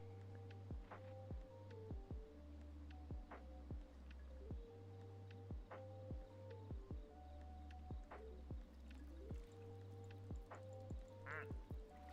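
Ducks quacking in a video game, a series of nasal quacks repeating at a steady rhythm over a constant low hum, with short drips and squishy blips between them.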